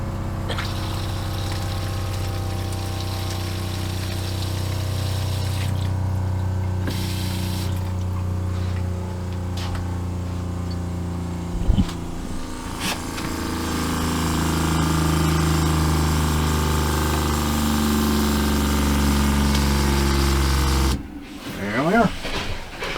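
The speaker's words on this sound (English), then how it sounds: "we got to put 6 gallons of water in the water heater first" An RV water pump fills a water heater with six gallons of water, running as a steady mechanical hum and whir with flowing water for a long stretch before cutting off near the end, with voices occasionally over it.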